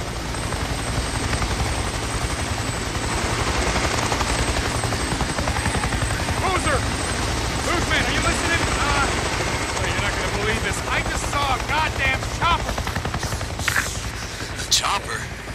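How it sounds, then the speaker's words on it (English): A helicopter flies overhead in the video game Days Gone, a loud steady rotor roar that fills the whole scene and swells close. Scattered sharp clicks and crackles break in near the end. "Near a chopper! It just buzzed right over me and acted like I wasn't even there!"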